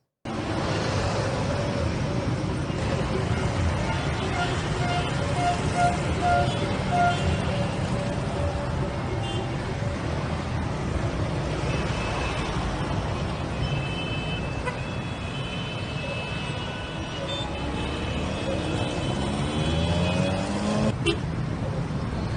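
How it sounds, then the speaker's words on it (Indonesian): Heavy, congested road traffic in Surabaya fills the scene as a steady dense roar of engines, with car horns tooting and beeping here and there, some close and loud, some farther off. "mengatur lalu lintas yang sedang super macet di Surabaya"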